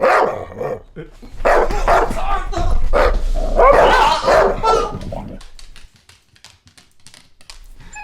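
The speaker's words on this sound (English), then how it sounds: "since when do you have a dog?" A dog barks several times in a film scene, sharp yips and bow-wows blending with the sound around them, loud and close, and then it drops to a quieter background.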